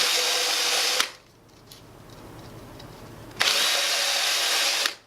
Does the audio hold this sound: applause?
no